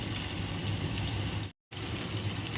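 Water is poured from a bowl into a pan of a vegetarian curry made with kalojeera paste and milk. It makes a steady, close rushing pour that cuts out briefly partway through and then resumes.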